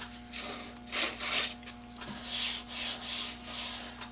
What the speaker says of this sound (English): when I'm doing any sanding on the lathe